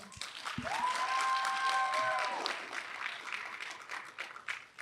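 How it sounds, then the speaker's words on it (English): Wedding reception guests applaud the vendors, a moderate spread of clapping that builds and then thins toward the end, with a sustained tonal hum sliding in briefly partway through. "So please, could we give them a round of applause now?"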